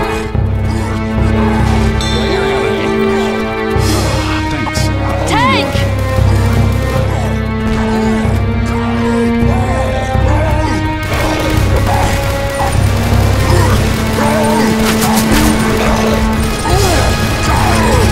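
Tank infected in the Left 4 Dead 2 video game smashing and crashing close by, heavy impacts and thuds over game noise and shouting players, loud throughout.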